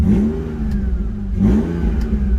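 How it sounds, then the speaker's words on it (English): A BMW E46 engine, warmed up and no longer misfiring, revs up twice, rising and falling in pitch, close and loud, with no talking. "now that the car is warmed up, as you can see, there's no more misfire"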